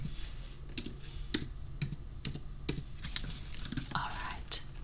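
Keyboard keys are tapped in short, irregular bursts of clicks up close, as paperwork is typed out in a soft, quiet setting, with faint whispery sounds between the strokes.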